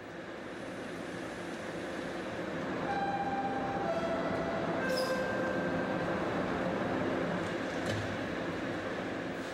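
A subway train rumbles steadily along the tracks with a broad roar, faint metallic squeals and whines rising now and then, no voices.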